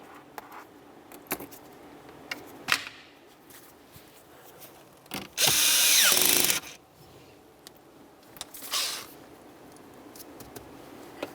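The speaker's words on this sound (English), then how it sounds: "Press it down as far as you can and tighten your 10mm nut." A 10mm nut on a 2004-2010 BMW X3 battery terminal is tightened by hand, giving scattered metallic clicks and taps, a short loud hissing burst midway, and a softer scrape after it.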